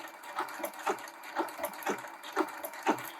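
Sewing machine stitching decorative stitches on ribbon with an M7 cloth guide, giving a close, steady rhythmic whirring with regular needle pulses about twice per second and no talking.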